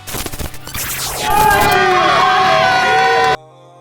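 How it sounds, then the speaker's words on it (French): Fight-night crowd in Paris applauding and cheering a guest: dense clapping at first, then a loud roar of cheers, whoops and shouts that swells and cuts off abruptly. "J'aimerais qu'on l'applaudisse très fort."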